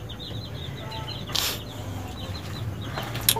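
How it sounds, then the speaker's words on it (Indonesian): Free-range village chickens cluck and chirp softly in the background over a steady low hum, with a brief burst of noise partway through. "Di sini juga saya mempunyai ayam kampung ya sobat"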